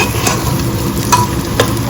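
A spice masala in a pan sizzles steadily with a few sharp spatula scrapes; nothing in the sound marks hot water going in, and no one speaks.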